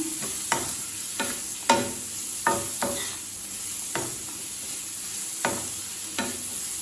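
Cabbage sautéing in a pan: a constant close sizzle with repeated spatula scrapes at an uneven pace, clear and without any talk.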